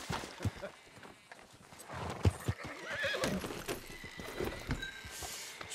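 Horse in Red Dead Redemption 2 whinnies and clip-clops on the ground, hooves thudding irregularly and fairly close alongside other game ambience, with no talk.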